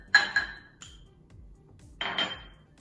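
Spoon scraping and clinking against a bowl as cinnamon is stirred into a sweet roll filling, two short clattering bursts separated by a quiet pause, close and fairly faint.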